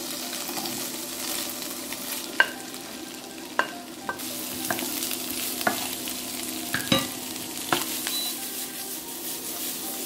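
Garlic and mixed vegetables sautéing in a pan for Chinese-style chicken Manchurian, a continuous sizzle punctuated by a dozen sharp clicks and scrapes of a utensil stirring at irregular intervals.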